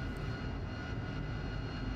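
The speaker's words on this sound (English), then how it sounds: "But I'll start up the aircraft, and you'll join me there." AV-8B Harrier jet in the DCS flight simulator game, a faint, steady engine roar and whine holding evenly through the short moment, with no talking.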